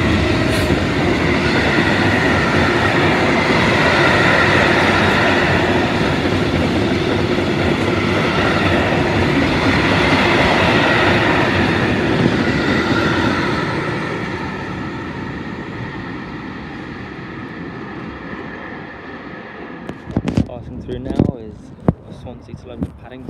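A train departs Severn Tunnel Junction station, with a loud, close rumble and rhythmic clatter of wheels on rails that fades as it pulls away, followed by a few sharp knocks near the end.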